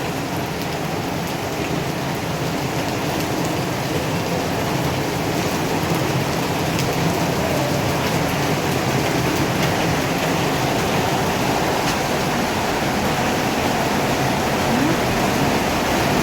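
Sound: heavy rain pouring

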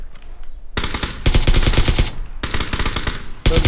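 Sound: gunfire in the video game PUBG

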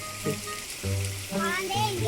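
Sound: heavy rain

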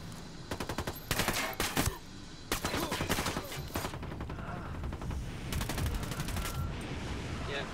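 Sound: enemy gunfire in the video game Ghost Recon Wildlands

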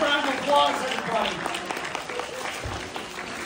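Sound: audience applause at a magic show

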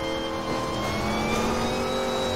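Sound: car engine with nitro boost in video game NFS Most Wanted

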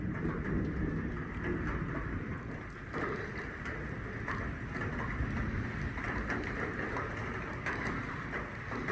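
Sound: rain

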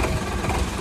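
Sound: tractor engine running

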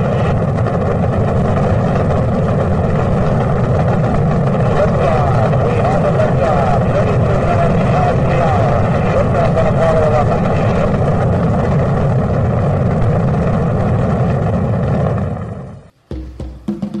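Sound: rocket engines roaring at launch

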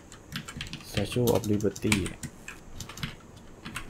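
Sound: typing on a computer keyboard

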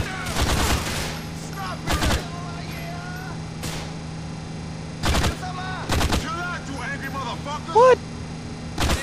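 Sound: gunfire in the video game GTA IV Ballad of Gay Tony

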